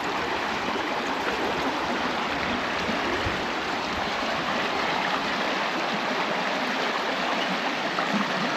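Steady rushing of a flowing stream, loud and continuous at close range, with no voices over it.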